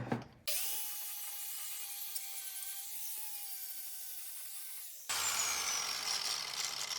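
An angle grinder works the rusty front frame rail of a 1965 Mustang: after a brief start, a steady high-pitched whine runs for several seconds, then cuts to a rougher, louder grinding rasp.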